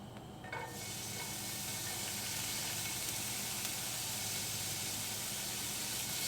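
Spinach and chili hit a hot pan and break into a loud, steady sizzle that holds evenly throughout, close and dense with no talking.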